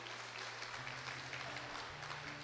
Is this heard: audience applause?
yes